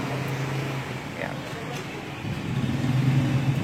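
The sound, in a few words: Rusi Macho 150 push rod motorcycle engine running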